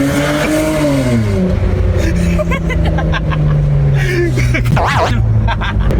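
A Hyundai Azera V6 fitted with an exhaust diffuser accelerates hard on a road in Mexico, its loud engine note climbing steadily, dropping at a gear change and rising again up close.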